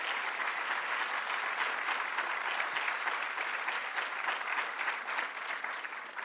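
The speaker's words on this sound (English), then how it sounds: "Let's give her a round of applause." Audience applause at an evening film screening event hosted by a governor, steady and full-bodied clapping from a sizable crowd, sustained at even loudness throughout without speech.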